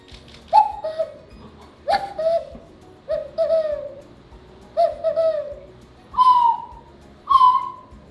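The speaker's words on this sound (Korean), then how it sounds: "꽃도 피고 새들도 찾아와서 노래를 불러요" A bird calls in slow, separate hooting notes, about seven of them spaced a second or so apart, clear and close against a quiet background.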